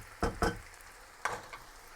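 Spinach and baby courgettes hit a hot pan, giving two quick close sizzling bursts, a short pause, then another sizzle fading into a soft crackle.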